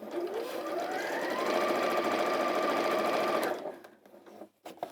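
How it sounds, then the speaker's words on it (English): A sewing machine top stitching around the edge of layered fabric hums in a steady fast whir for several seconds, then stops, followed by a few faint handling sounds. "I top stitch around the edge to hold the layers together"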